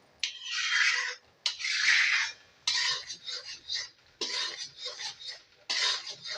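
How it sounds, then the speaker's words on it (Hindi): A spoon or spatula scrapes quickly and repeatedly against a pan while khoya cooks over high heat, coming in brisk bursts of rasping strokes with short pauses, close and clear, with no talk. "हमने आंच तेज कर ली हुई है और इसे फटाफट चला लेंगे।"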